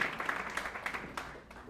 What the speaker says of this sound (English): Another big round of applause for Maria and her team.